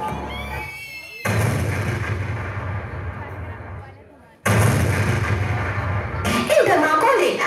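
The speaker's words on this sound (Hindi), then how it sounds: "दिल्ली में ब्रिटिश सरकार की सेंट्रल लेजिस्लेटिव असेंबली की बैठक में 2 बम धमाके की आवाज सुनाई दी।" Heavy booming blasts with long rumbling roars, two loud bursts separated by a brief lull, dense and thunderous, staged as bombs in an assembly hall in an Independence Day school play.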